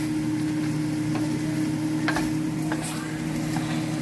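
Garlic, onion and tomato sizzle in oil in a home kitchen pan, a steady crackling fry with a low hum and occasional clicks of stirring.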